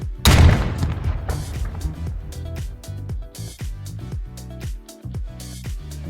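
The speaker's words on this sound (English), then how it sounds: "and an M82A1 rifle." An M82A1 rifle gunshot built as a slow-motion sound effect: one loud, close blast near the start, then a long, heavy rumbling decay with a ringing, tonal tail that fades over several seconds.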